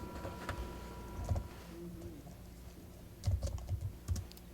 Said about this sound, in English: It's not spelling, it's typing.